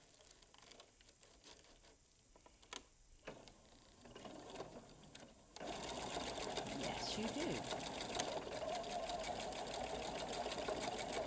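A sewing machine stitches through Lutradur fabric, shifting from quieter intermittent sounds under talk into a loud, steady mechanical whir and patter that runs to the end.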